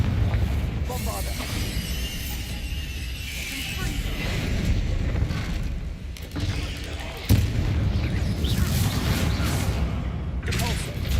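Bombarda blasting spell detonating in a Harry Potter video game fight against spiders: dense, booming explosive bursts layered over continuous loud combat noise, with a sharp blast near the end.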